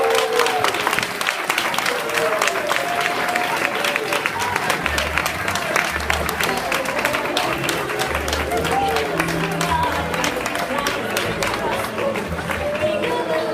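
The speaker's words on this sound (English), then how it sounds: "while you're clapping" Audience applauding at a school graduation, a continuous loud wash of many hands clapping with crowd murmur, steady for the whole stretch as a voice speaks over it.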